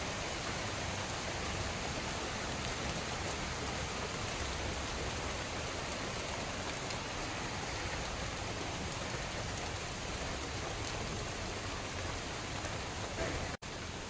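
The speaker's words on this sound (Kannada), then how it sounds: "ಇವಾಗ ಸ್ವಲ್ಪ ಮಳೆ ಕಡಿಮೆ ಆಯಿತು," Steady, dense rain falls on and around a shed, an even unbroken hiss of drops on the roof and ground that stays loud throughout with no voices.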